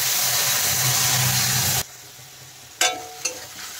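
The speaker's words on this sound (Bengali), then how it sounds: "এখন আগে থেকে যে মশলাটা পেস্ট করে রেখেছিলাম সেইটা দিয়ে দিলাম।" Loud, steady sizzling of ground spice paste frying in hot oil for fish kalia, which cuts off abruptly partway, followed by a couple of sharp clinks and scrapes.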